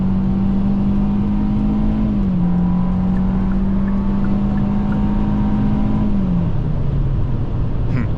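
A 2024 Hyundai Venue with a CVT accelerating hard to overtake, a steady droning engine tone held at near-constant pitch with smooth step-downs, over heavy road and wind noise inside the cabin.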